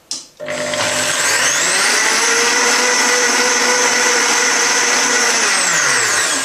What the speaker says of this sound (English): And then you're just blending basically to mix it in.